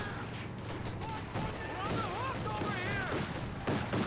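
Rifle fire from G43s in a real-time strategy wargame match, a dense crackle of shots under continuous commentary talk.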